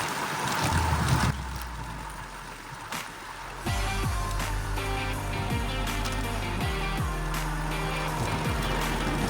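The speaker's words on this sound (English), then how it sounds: "It's windy today." Strong wind blowing outdoors by rough water on a trail, loud gusty buffeting with heavy microphone rumble, then a steadier roar with low tonal hums and scattered clicks.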